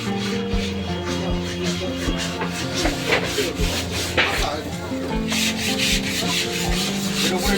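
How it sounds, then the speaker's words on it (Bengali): Wooden goods being sanded and polished smooth at a wooden-goods fair in Nadia, a continuous rubbing, scraping texture with steady loudness, backed by busy crowd and music in the background. "পালিশ করে সমান করা হচ্ছে"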